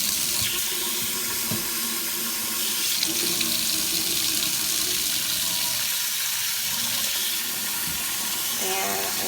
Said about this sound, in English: So I'm going to start my water.